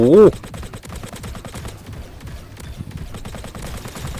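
Gunfire in the Iron Man mobile game comes as rapid, rattling bursts of shots with a loud hit at the start, and someone talks over it.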